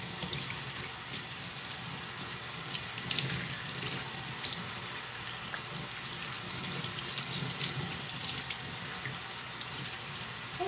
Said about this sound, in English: I'm just making sure that I rinse everything out thoroughly